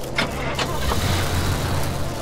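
Car engine in the driving game Pacific Drive, a steady close rumble running for the whole short stretch with a few faint clicks on top.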